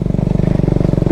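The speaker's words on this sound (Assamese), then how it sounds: "বাইকৰ মাতটো শুনক না, চেঞ্জ হৈ গ'ল" Motorcycle engine labouring up a steep, rough alternative road in the Dong valley of Arunachal, a steady close, loud low chugging with a fast regular firing pulse and faint clatter, no talk.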